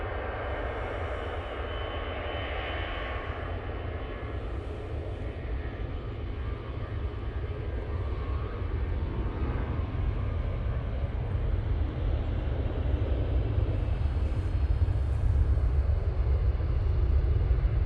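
An EasyJet airplane landing on runway 05 right at Manchester Airport produces a broad, steady engine roar that builds gradually louder, heard outdoors from a distance with no talk.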